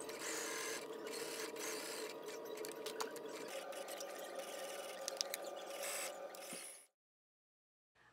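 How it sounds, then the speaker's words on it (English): Home sewing machine edge stitching all the way around the collar band of a chambray blouse, a steady close whirring run of stitches for about seven seconds before stopping abruptly into silence. "Now I'm going to edge stitch all the way around the collar band."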